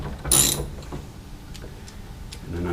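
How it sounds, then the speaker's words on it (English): A 10 mm socket on a ratchet loosens nuts on a Gen 5 Camaro spoiler, with a short burst of ratchet clicking followed by faint, quieter clicks and light mechanical rattles nearby. "we got a 10 millimeter socket and ratchet. Just going to loosen them all."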